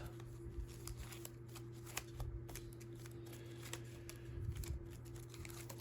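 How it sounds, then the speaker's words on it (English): Cards from the Transformers deck-building game being shuffled by hand at a table: a quiet run of crisp riffling and tapping flurries, close and faint, with short pauses between bursts. "Shuffle the cards again"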